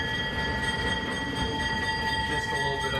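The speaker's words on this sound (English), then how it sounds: "When the locomotive is under steam and going at a pretty good clip" The Pere Marquette 1225 steam locomotive, under steam on the rails, keeps up a continuous low rumble with steady whining tones over it, heard alone and at even loudness.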